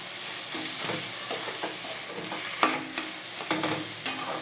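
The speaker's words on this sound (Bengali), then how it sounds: "এবার ভালো করে এটা কচুর শাকের মতো ঘাটা ঘাটা একদম করে দিতে হবে" Taro flowers are stirred and mashed in a frying pan, with a soft sizzle beneath repeated scraping strokes and several sharp knocks of the spatula near the end.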